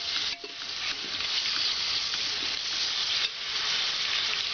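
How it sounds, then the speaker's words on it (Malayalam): Onions sautéing in a pan for Kerala beef biryani give a continuous close sizzle with light stirring, steady and even throughout with no voices. "സവാള നന്നായിട്ട് വഴണ്ട് വരുന്നുണ്ട്."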